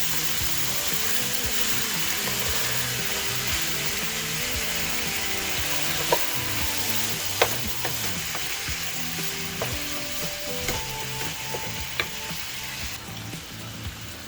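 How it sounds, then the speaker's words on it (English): Vegetables and onions for jambalaya sizzle steadily in a pan, with an utensil stirring and scraping through them and occasional sharper clicks against the pan. "Now you're going to cook the veggies until the onions get nice and translucent."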